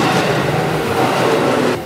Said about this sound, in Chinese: 火车哎